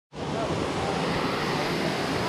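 Waterfall at El Salto de Quezaltepeque, a sudden onset of loud, steady broadband rushing water that continues unbroken and close, with no other sounds standing out.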